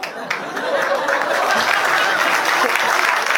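Loud, steady applause from a stand-up comedy audience fills the room, a thick wash of many hands clapping with a few faint laughs mixed in.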